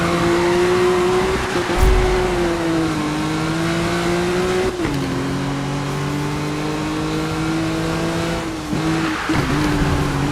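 Car engine racing in the Need for Speed Rivals video game, a loud sustained drone with gear-shift dips and surges, brief thumps and tire squeal, no voices.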